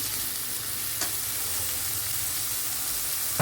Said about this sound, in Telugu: ఉల్లిపాయలు కట్ చేసుకున్నాం కదా, వేసేసుకున్నాము. ఇవి వేగుతూ ఉంటాయి.